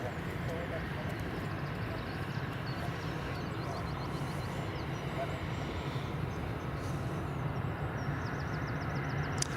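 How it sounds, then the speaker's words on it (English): An Aer Lingus airliner on approach to land at Edinburgh Airport makes a distant, steady jet roar that holds under continuous outdoor wind noise, with people talking. "I'll just pan over to the Aer Lingus, which is just about to land."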